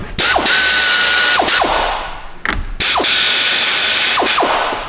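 Ratcheting socket wrench clicking in quick repeated bursts while loosening 13 mm bolts on a Cadillac ATS 2.5 engine during engine replacement, loud and close, with brief pauses between strokes.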